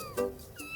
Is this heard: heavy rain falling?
no